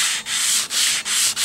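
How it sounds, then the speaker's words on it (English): Rhythmic back-and-forth hand sanding strokes on gun metal during a restoration, loud and close, four or five rasping passes with brief gaps between them. "10 solid minutes of sanding"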